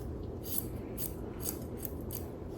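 Scissors trimming a dog's fur during grooming around the muzzle: a run of quick, crisp snips in an irregular rhythm, close and fairly quiet, with no talking.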